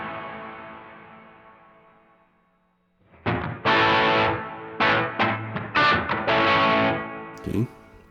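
Electric guitar through a Donner Yellow Fall 2 pedal on its plate reverb setting: after a fading tail, a run of loud, bright strummed chords rings out one after another, each followed by a short, dense shimmer of reverb.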